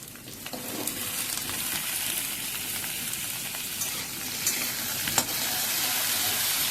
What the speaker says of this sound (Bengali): প্রথমেই আলুগুলো ফ্রাই করার জন্য দিয়ে দিলাম। আলুটা ফ্রাই করে নেব আগে নুন হলুদ মাখিয়ে নিয়ে